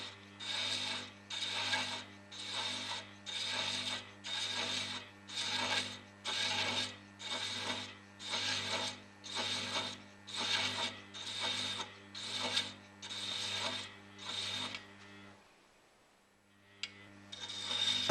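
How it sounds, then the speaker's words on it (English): A lathe running at low speed cuts a 16 TPI thread with a trailed thread cutter, giving a steady series of rhythmic rasping strokes over a constant low motor hum, ending with a short pause and a faint click. "with your lathe at a low speed, strike and fully profile the thread"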